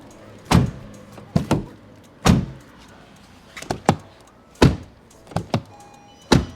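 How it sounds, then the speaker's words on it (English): Repeated heavy thuds of a 2025 Ford Maverick door being shut, about eight solid impacts at irregular intervals, close and punchy with quiet gaps between. "So when you shut the front door, you get this thud."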